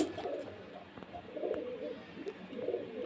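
Several pigeons, including Lalmuski pigeons, coo in soft, repeated bursts close by at a pigeon sale, a gentle throaty rhythm over faint background noise.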